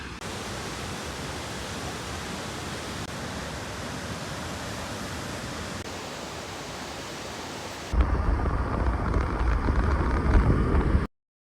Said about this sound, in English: So this is Godafoss Waterfall.